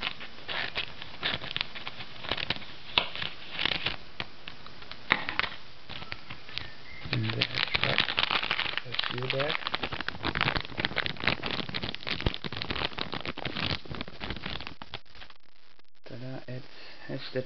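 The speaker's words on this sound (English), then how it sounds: "So I'm gonna use my scissors here." Scissors snip and crackle through the plastic packaging of an iPod video cable. Sharp, irregular clicks and crinkles come up close, mixed with stretches of talking.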